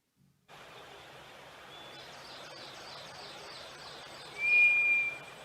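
A White's thrush call played back from a phone recording: a thin, eerie whistle, faint at first and then louder near the end, over a soft hiss.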